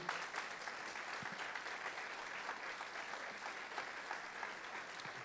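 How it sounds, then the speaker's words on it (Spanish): A church congregation at a Sunday service claps together in a sustained, even patter, heard at a distance and fairly quiet, with no voices over it. "si va a aplaudir, apláudele al Señor."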